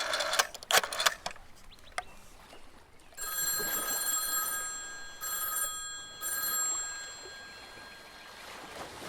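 A telephone rings in an audio drama, three long electronic rings in steady rhythm following a few brief clicks, clear and fairly loud against a quiet background.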